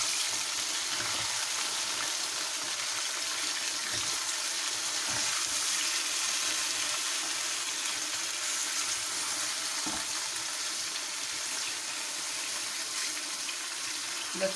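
Garlic and ginger paste frying in oil for a mutton karahi, a steady bright sizzle and crackle holding constant throughout with occasional small pops, no voices over it.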